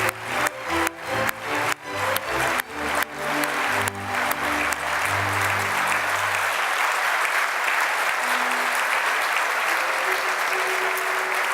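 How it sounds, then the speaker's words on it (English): Applause at the 2018 European Heritage Awards ceremony, a large audience clapping that starts with a few sharp synchronized bursts under amplified music, then swells into loud, sustained, dense clapping. "now a warm round of applause for the first group of 6 winners"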